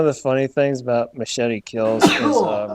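Someone talks, then breaks off with a sudden loud sneeze near the end, close to the microphone.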